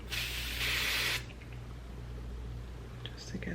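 Hair spray sprayed over freshly straightened hair: one steady aerosol hiss lasting about a second, close and fairly loud, then quiet room noise with a low hum.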